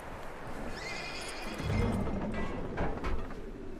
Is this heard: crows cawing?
no